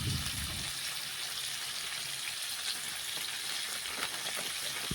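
Amra (hog plum) chutney with salt, stirred in a pan over low heat, gives a steady, soft sizzle with faint scraping and wet stirring noises close by.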